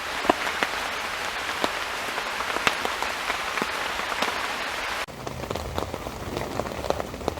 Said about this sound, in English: Rain's coming down quite heavily now.